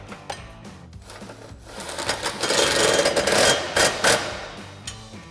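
Ratchet with a 13mm swivel socket tightening a Challenger exhaust bolt, a run of quick metallic clicking and scraping that swells in the middle and fades, close and alone.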